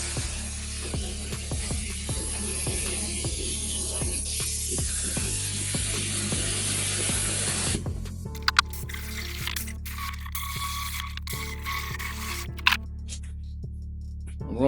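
Spray paint goes on as a final coat over shaved headlight trim on a BMW E46 330Ci convertible, hissing in short bursts with clicking nozzle sounds, then stopping partway as mechanical clatter and clicks take over.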